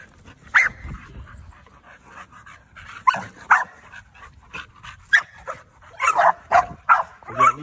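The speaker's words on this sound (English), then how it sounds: "He a real intense little dog" A small dog whimpers and yips in short, close bursts, quiet at first, then coming faster and louder toward the end.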